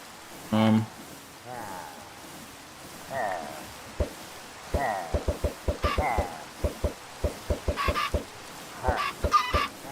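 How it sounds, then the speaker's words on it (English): Chickens cluck in modded Minecraft at a chicken breeding setup, with a series of short, sharp clucks and clicks repeating irregularly, while a person talks over the game sounds. "set up a source of chickens, breeding chickens, which makes a whole bunch of eggs"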